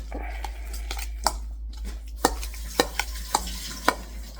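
Guacamole being mixed in a bowl, a series of soft clicking and scraping strokes from a utensil, close and moderately loud, with sharper taps at irregular intervals over a low steady hum.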